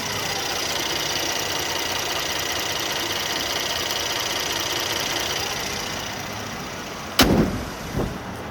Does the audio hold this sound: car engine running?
yes